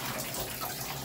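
Tap water runs steadily into a tub while a dog, apparently a Cane Corso, is bathed indoors, a continuous broadband splashing rush that stays close and fairly loud for the whole moment with no talking.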